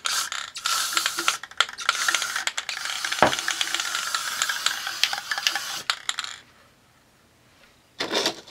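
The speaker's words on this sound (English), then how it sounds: "I'm going to start spraying this." An aerosol spray can hisses in bursts onto a Christmas decoration, with a rattling, clicking nozzle and can-handling noises, loud and close for about six seconds, then quiet before a final short spray.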